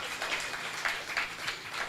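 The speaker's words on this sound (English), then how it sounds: "I think we need to give Ubulelani as well a round of applause" An audience at a community business workshop in Mdantsane claps in a brief, fairly faint round of applause heard from a distance.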